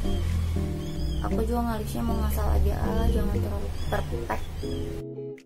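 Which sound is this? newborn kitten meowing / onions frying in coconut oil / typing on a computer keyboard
newborn kitten meowing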